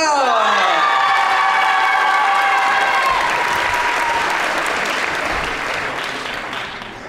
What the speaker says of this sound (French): tonnerre d'applaudissements pour Gaël et Nicolas